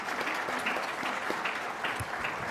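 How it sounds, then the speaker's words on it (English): Audience applause after a talk at a community meeting, a steady dense patter of many hands clapping close by, sustained throughout with no voices over it. "Please join me in a round of applause."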